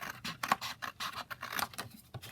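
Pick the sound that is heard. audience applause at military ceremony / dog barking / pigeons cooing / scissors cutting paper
scissors cutting paper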